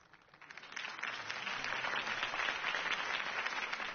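Applause from a crowd at a political campaign rally for Harvey Dent in the Batman Telltale video game, a steady dense wash of clapping that swells in over the first second and holds loud and even.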